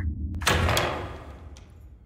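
A heavy door opening in a video game, a single thudding slide-and-thump rising to a loud, broad swell near the start, then fading out over a low rumbling game background.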